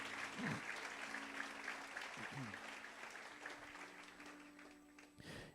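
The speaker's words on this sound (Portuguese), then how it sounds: "Dá uma salva de palmas bem forte a Jesus," Church congregation clapping during a service, a dense wash of applause, faint and distant, with a few voices calling out over it as it slowly tapers off.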